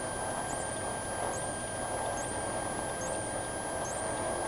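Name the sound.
Cessna light aircraft engine in flight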